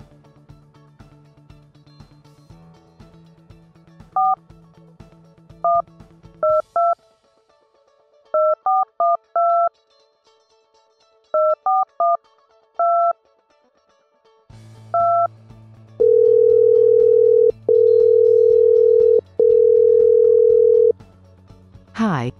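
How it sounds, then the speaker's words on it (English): A phone call to an IVR number begins with a steady dial tone, then clusters of short DTMF keypad beeps, followed by long ringing tones, all clear and close with no talking. "Now, we are going to make a call to this phone number."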